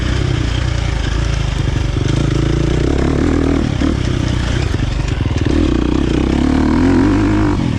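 A KTM 350 XC-F dirt bike engine accelerates in third gear on a flowing trail, a loud, close, continuous drone with the revs rising and easing, plus some clatter.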